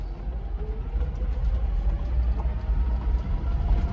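A low, steady mechanical whine from a vehicle's transfer case in four-wheel low rumbles continuously under engine and road noise while off-roading in Montana, with no talking.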